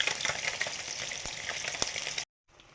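Amudi fish frying in hot oil in a home kitchen, a loud steady crackling sizzle that cuts off abruptly near the end, leaving a faint hiss.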